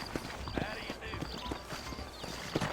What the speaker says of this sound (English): I'm about to mount a horse